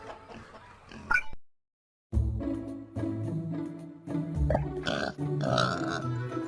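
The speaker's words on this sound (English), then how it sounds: "A pig." A pig grunts in several rough, low bursts after a brief gap of silence, close and fairly loud over a soft steady background.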